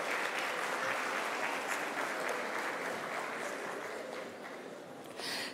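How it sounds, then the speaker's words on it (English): A lecture hall audience applauds at a university founders lecture with sustained dense clapping. The clapping is fairly distant and gradually thins toward the end. "definitely deserve another applause."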